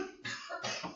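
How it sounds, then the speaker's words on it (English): Two or three quick, close coughs in rapid succession from one person, dry and fairly quiet, with no talk over them. "Coughing."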